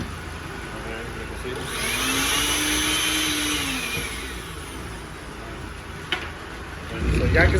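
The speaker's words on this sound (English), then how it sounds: "that's the dryer. That shit's noisy." A noisy clothes dryer runs with a steady, loud whooshing roar that swells slightly in the middle, with a brief knock near the end.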